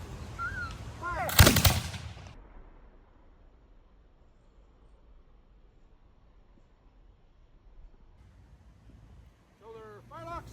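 A ceremonial musket volley fired by a reenactment honor guard at a grave marking in a New England cemetery, one loud booming crack followed by a long rolling echo fading outdoors, with faint voices and distant birds near the end.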